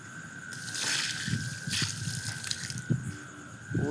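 Water is poured in a pigeon loft after a tarpaulin is laid down, with splashing and sloshing bursts, some clanking of a pot or container, and a steady high tone running underneath, close and moderately loud.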